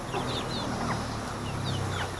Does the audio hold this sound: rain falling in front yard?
no